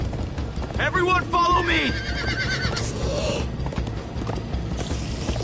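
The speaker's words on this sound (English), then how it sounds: "Come on, horses! Whatever you do, don't look back." Horses gallop in the video game Minecraft: Story Mode, with rapid clip-clopping hooves and a sharp whinny, while a character shouts over the hoofbeats.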